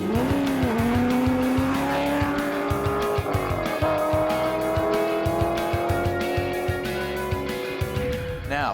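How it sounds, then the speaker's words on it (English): A race car launches from a standing start for a half-mile run on public roads during the Silver State Classic, its engine roaring loud and close with tire squeal, revving hard and dropping in pitch at each quick upshift. "this is a half-mile blast from a standing start to see just how fast you can go"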